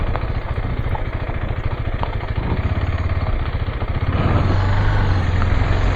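A KTM 390 Adventure motorcycle engine running close by, a loud steady rumbling idle with rapid even pulses that swells slightly toward the end.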